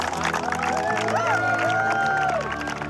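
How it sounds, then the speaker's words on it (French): A crowd applauds with steady clapping, mixed with cheers and a few rising whoops, loud and continuous throughout. "je pense que vous méritez tous une bonne main d'applaudissement"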